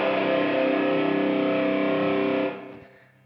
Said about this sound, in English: And that drop C sounds something like this.